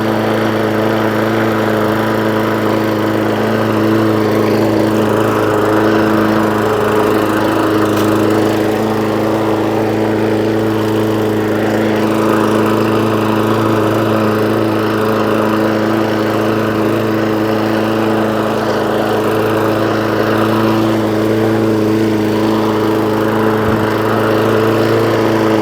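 A Hayter Ranger 53 petrol lawn mower that will not reach full revs runs at full throttle, its engine loud, close and steady with a constant buzzing drone throughout.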